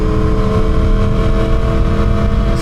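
A Yamaha R1 sport motorcycle is ridden at speed, its engine droning loud and steady with a high tonal whine over rushing wind noise, close up and with no talk.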